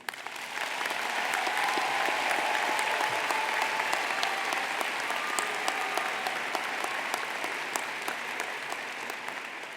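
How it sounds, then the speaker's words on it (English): Audience of family, faculty and friends applauding graduates at a university school of management convocation, a sustained, full roar of clapping that swells quickly and then eases gradually toward the end. "Please join me, family, friends, supporters, faculty, in applauding our graduates."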